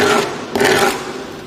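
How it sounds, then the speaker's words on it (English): Bracelet drawn along sandpaper laid flat on a table to smooth its corners, two close, loud scraping strokes of rough rasping friction. "the easiest way to do this with the most control is to have the sandpaper on the table and draw your bracelet along it"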